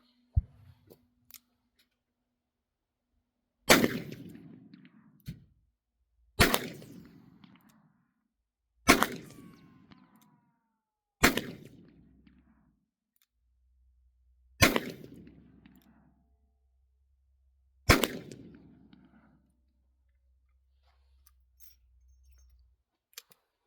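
Seven sharp, loud .44 Magnum gunshots fired at a target on a range, each a single crack with a ringing decay, spaced a few seconds apart with quiet between.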